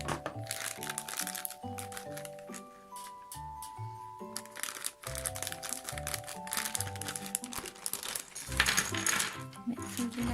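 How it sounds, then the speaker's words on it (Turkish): Crinkly plastic packaging is torn and rustled open to reach the accessories of a Barbie Club Chelsea treehouse toy. The crackling comes close up and continuous under background music, with small parts clattering inside the bag. "Şimdi bu poşeti açalım."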